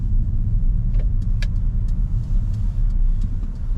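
A Mercedes A180 drives along, its engine and road noise forming a steady, close low rumble that continues without break and with no talking.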